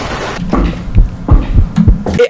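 Heartbeat effect in a horror video game, loud close low thumps in a steady rhythm of paired beats over a faint background hum, repeating across the moment.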